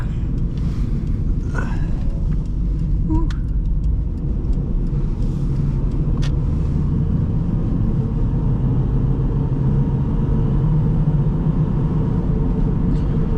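A 2003 Subaru Impreza Wagon driving and making a U-turn, its engine and road rumble heard from inside the cabin as a steady, loud drone with a few faint clicks and knocks over it.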